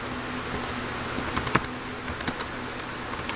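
Soft, scattered keystrokes on a computer keyboard as a title is typed, irregular clicks that bunch in small clusters over a steady low hum, close by with no talk.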